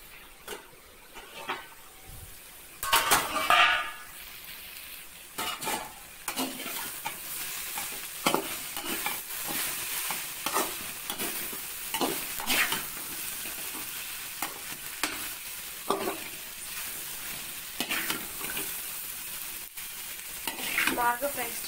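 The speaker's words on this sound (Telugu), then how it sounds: "కొంచెం మూత పెట్టేసి ఫ్రై చేసుకోవాలి." Bhindi (okra) fries in a pan with little oil. Quiet, steady sizzling sits under repeated scraping and clattering of a spatula, with louder stirring bursts now and then and no voices.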